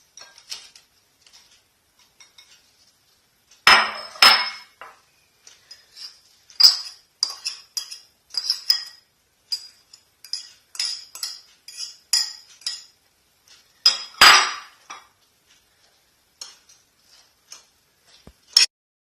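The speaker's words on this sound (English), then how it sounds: "Now we mix the potatoes and the onions with the egg and we let it rest for 10 minutes." Potatoes, onions and beaten egg being mixed for a Spanish omelette, with irregular clinks and taps of a utensil against a bowl, close and fairly quiet, spaced with brief pauses and no talk.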